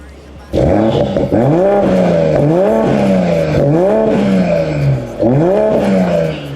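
BMW Z4 M40i with its stock exhaust, the engine revving repeatedly in close, loud surges that rise and fall in pitch, several blips in a row with a short lull between them.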